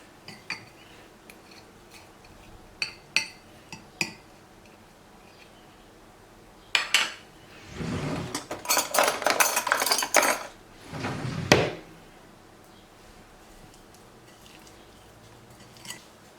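Garlic, chives and salt being stirred into a yogurt-based falafel sauce in a bowl, with scattered light clinks of a utensil followed by two bursts of brisk scraping and mixing, no talk.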